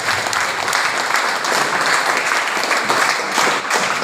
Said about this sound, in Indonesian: Aplaus semuanya.